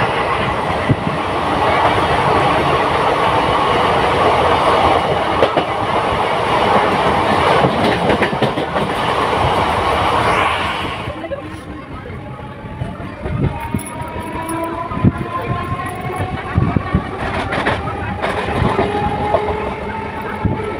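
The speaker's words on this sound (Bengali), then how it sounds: "ট্রেনে তো উঠে পড়লাম, আর ট্রেন দেখো শ্রীরামপুর ক্রস করলো" Passenger train running on rails past Serampore, a loud steady rumble with clickety-clack of wheels over rail joints, heard from inside a carriage, easing somewhat midway.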